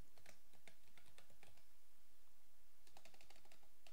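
Fast keystrokes on a computer keyboard, faint and close, in two quick clusters separated by a short pause while entering a command in Windows.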